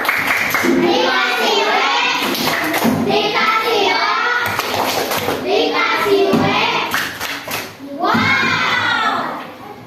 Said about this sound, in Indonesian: Tepuk wow untuk kelompok A